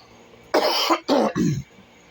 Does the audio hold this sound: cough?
yes